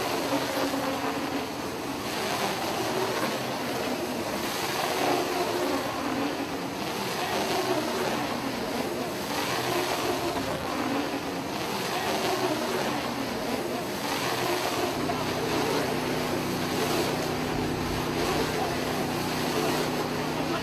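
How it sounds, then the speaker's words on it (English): A 4-cylinder Kubota diesel engine powers an Esch Manufacturing small square bale wrapper at a draft animal power event, a steady rumbling drone that continues throughout with a low tone shift near the end. "This is a small square bale wrapper made by Esch Manufacturing from Lancaster, Pennsylvania, powered by a 4-cylinder Kubota diesel engine"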